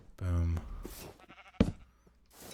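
A sheep gives one loud, close bleat with a wavering, strongly harmonic tone, followed by a sharp knock and softer rustling; a person's voice is also present nearby.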